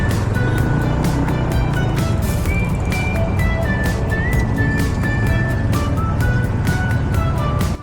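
Busy motorbike traffic in Saigon, Vietnam, a dense continuous roar of small engines with frequent horn toots and beeps overhead, loud and close throughout.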